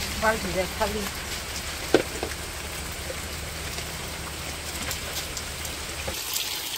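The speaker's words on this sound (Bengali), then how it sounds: "আবারও বৃষ্টি শুরু হয়ে গেছে" Steady rain patters down on a Bangladeshi village on a cool day, a continuous soft hiss of drops with a few faint knocks early on and no clear voices.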